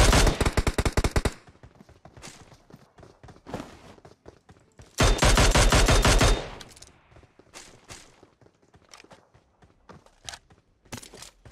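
Automatic rifle fire in the mobile game PUBG Mobile arrives as two loud, rapid bursts, with scattered single shots and footsteps between them and afterward.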